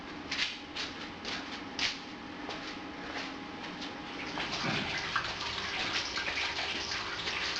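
A wort chiller runs on 10-degree ground water while cooling a batch of ginger beer, giving a steady rushing, gushing flow of water with small splashes, close by and without talk.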